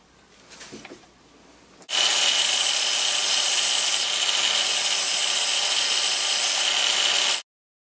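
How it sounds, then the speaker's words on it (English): After a few quiet handling noises, an angle grinder sharpening the end of a nail bursts into a loud, harsh, high grinding screech that holds steady for about five seconds, then cuts off abruptly. "Now I'm going to use the grinder to make a point on this end of the nail."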